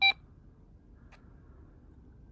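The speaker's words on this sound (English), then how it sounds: "you'll see that it made a beep" A VisioLogix CITE F1 body worn camera gives one short, sharp beep as it stops video recording, followed by a faint tick and quiet room background.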